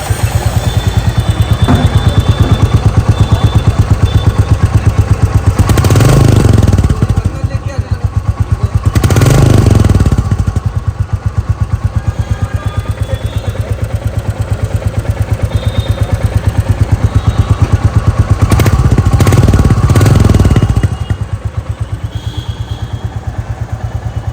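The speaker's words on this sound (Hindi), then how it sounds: "ये है इस बाइक का एग्जॉस्ट साउंड, जो पहले से ज्यादा थम्पी हो चुका है" A Royal Enfield Bullet 350 Battalion Black idles with a rhythmic, thumpy single-cylinder exhaust beat, loud and close, rising briefly with revs several times before settling back.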